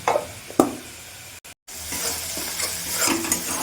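Spice masala being stirred and fried in oil in a pan for a Bengali fish and brinjal curry, with close scraping stirs and a steady sizzle, briefly cut off by a short gap.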